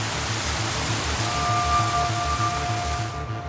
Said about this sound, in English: walk into the waterfall